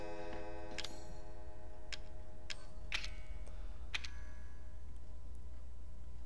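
A clock ticking inside the Resident Evil 7 video game, with a few sharp, evenly spaced ticks over a low steady hum and no talking.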